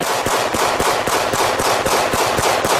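A loud, continuous burst of rapid automatic gunfire, shots cracking in a fast steady rhythm throughout.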